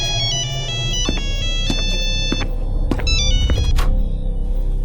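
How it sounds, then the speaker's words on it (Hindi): A phone ringtone plays continuously from inside a bathroom, a repeating electronic melody with steady tones over a low rumbling background, fairly loud and uninterrupted. "आनंद को एक फोन की रिंग सुनाई देती है जो उसके बाथरूम से आ रही है।"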